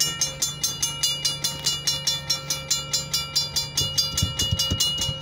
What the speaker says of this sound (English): we have a Union Pacific back train coming